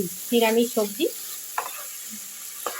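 Okra and potato curry sizzles in a pan as it is stirred, the soft frying hiss running steadily underneath a voice, with a few scraping clicks of the spoon against the pan.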